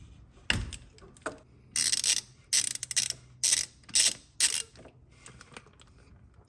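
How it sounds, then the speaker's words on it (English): A ratchet works a 17 mm oil drain plug loose on a Kawasaki Brute Force ATV, giving several close bursts of rapid clicking separated by short pauses, with a sharp clunk at the start. "Let's loosen it, and I'll get the drain pan."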